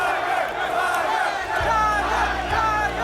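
Loud, roaring crowd of golf fans at the 18th green, screaming and chanting for Tiger Woods, a dense wall of shouting voices that swells with rhythmic pulses partway through.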